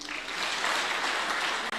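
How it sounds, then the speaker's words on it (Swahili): A crowd at a political rally in Machakos claps for a member of parliament, a dense burst of applause that holds steady for a couple of seconds and then cuts off abruptly. "Huyu anaitwa Vincent Musyoka, mbunge wa kutoka Mwala, mpigeni makofi."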